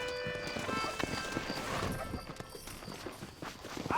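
Horse hoofbeats from riding in the Western video game Red Dead Redemption, a steady clip-clop of hooves with a brief whinny, heard close over game music and ambience.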